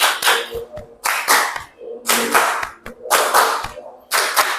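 A class of students claps together in short, sharp bursts during a vocabulary beat game, with five or six loud rhythmic rounds separated by brief pauses.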